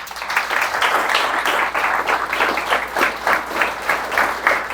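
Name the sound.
congregation applause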